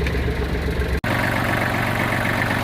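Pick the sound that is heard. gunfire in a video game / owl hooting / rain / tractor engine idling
tractor engine idling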